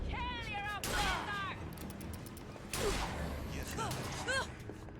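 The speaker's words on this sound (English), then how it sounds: "you're just gonna keep firing the wall" Enemy gunfire strikes a wall in BioShock Infinite in a few short, noisy volleys. Game voices and chirping sounds are heard between and over the shots.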